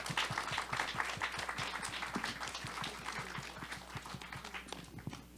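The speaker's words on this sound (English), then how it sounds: "let's get a round of applause for the panelists" Applause for panelists at a conference panel discussion, a modest audience clapping fairly quietly and steadily, with a few louder individual claps, tapering slightly toward the end.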